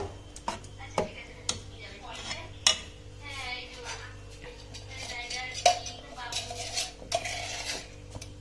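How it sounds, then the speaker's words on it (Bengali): A spoon scraping and knocking against a pot while jaggery is stirred into Gobindobhog rice payesh, with repeated sharp metallic clinks in an irregular rhythm, a steady low hum beneath, and someone talking throughout. "ভালো করে নেড়ে নিচ্ছি এটা দিয়ে"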